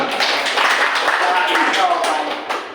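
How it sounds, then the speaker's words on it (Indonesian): Group hand clapping at a school event in Indonesia, a brief round of claps from a small gathering with voices mixed in beneath it. "Tepuk tangan dong kita semua."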